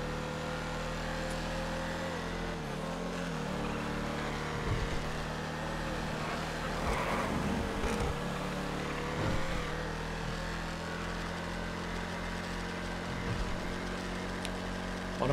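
A Dominator GT car in GTA V, its engine humming low and steady with slight revving swells over about fifteen seconds, close and continuous.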